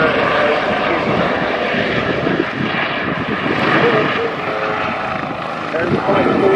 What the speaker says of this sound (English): We're possibly known as the Airbus H145 in our service.